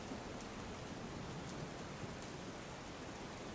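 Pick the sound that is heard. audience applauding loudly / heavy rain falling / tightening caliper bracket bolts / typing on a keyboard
heavy rain falling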